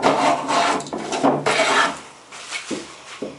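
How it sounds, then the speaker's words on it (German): A hand plane shaves a wooden board while a small cabinet is being built. Several close, dry rasping strokes come in uneven bursts with short pauses between them. "Jetzt will ich mal doch noch die andere ein bisschen hobeln."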